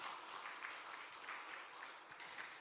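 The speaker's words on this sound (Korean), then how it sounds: "교사로 수고하시는 우리 선생님들 위해서를 크게 박수 한번 더 해주시기 바랍니다." Faint, distant applause from a church congregation during a Sunday service, an even wash of clapping heard quietly throughout without breaks.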